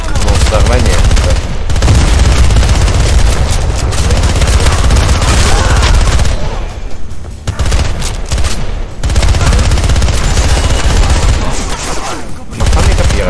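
Loud, continuous gunfire and explosions from a Spyhunter: Nowhere to Run firefight, with bursts layered densely and a brief lull midway before the barrage resumes.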